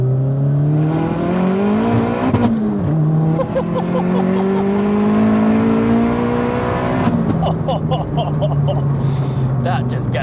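A fully built 533 bhp Vauxhall Astra VXR turbo engine pulls hard from inside the cabin, its rising tone climbing through gears with brief shift dips, loud and continuous, while people talk over it.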